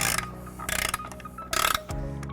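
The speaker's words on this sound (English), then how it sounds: "We'll be using a 15mm socket." A ratchet with a 15mm socket tightens bolts while a trailer hitch goes onto a 2021 Tesla Model S, with bursts of rapid close clicking separated by short pauses and nobody speaking.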